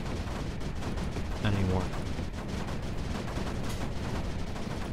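Turret and mortar fire in the game Creeper World 4, heard as a dense, continuous crackle of rapid gunfire-like shots under a single spoken word.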